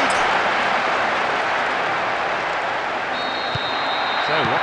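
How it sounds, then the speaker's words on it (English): A large football stadium crowd cheers after a goal in a Portugal versus Brazil match, a loud, sustained roar and applause with a commentator talking over it. "the goal that all of us were waiting for has come, and you can hear the relief from the crowd"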